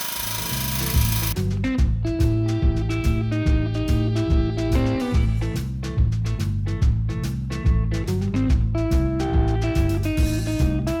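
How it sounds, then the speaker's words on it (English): A planishing hammer smooths sheet-metal door skin for a Model T Ford, giving a steady rapid mechanical pounding with brief pauses, loud and close, with no talking. "we'll go ahead and run this through the planishing hammer"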